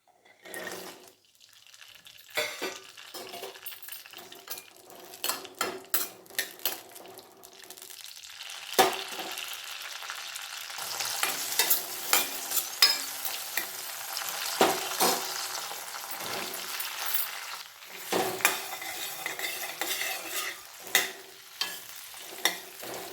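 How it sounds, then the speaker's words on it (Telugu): Green chillies sizzle and crackle in hot oil in a pan, a steady frying hiss with intermittent spatters and stirring clinks that swell louder midway and continue throughout, no voices present. "పచ్చిమిర్చి వాడ్చుకుందాం. ముందు కొంచెం ఆయిల్ వేసుకొని"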